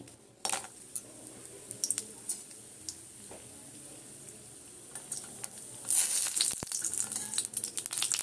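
Five lentil dumplings (bori) dropped into hot oil for a vegetarian curry, a soft steady sizzle punctuated by scattered pops and ticks, swelling louder toward the end.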